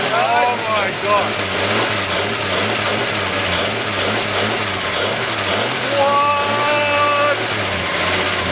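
An old Ford Falcon engine running after a cold start, a loud steady rumble with a regular low pulsing throughout, while people talk excitedly over it.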